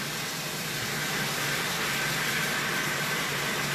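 Steady, dense sizzling hiss of burgers frying in a hot pan, continuous and close with no pauses.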